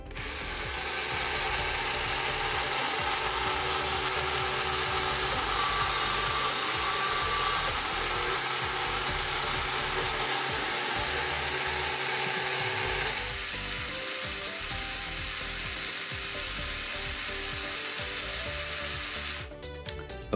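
A R.O.B. toy robot's motors whir loudly and continuously for about thirteen seconds during a calibration rotation, then shift to a lower, quieter mechanical hum before stopping with a few clicks.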